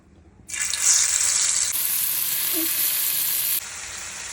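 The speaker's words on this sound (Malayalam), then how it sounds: "കറി ഇതെല്ലാം കൂടി എടുത്തൊന്ന് പൊരിച്ചെടുക്കാം" Marinated fish coated in masala and ginger-garlic paste frying in hot oil, a loud, steady sizzle that bursts in after a brief quiet start and hisses continuously to the end, with no talking.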